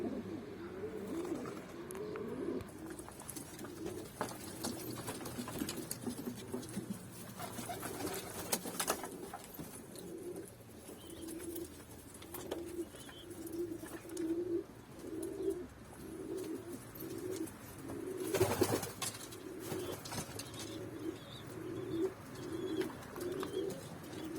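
Isparta tumbler pigeons coo in a steady run of soft, rhythmic calls close by, carrying on without a break through the whole stretch with a faint background hum and no talking.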